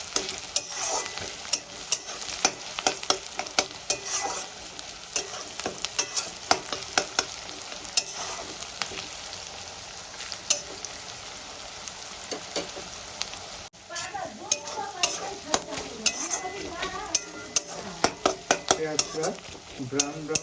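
Ginger, garlic and green chilli paste frying with browned onions in a pan, a steady sizzle broken by frequent scraping clicks of a stirring spoon, close and continuous throughout, with a brief dip midway.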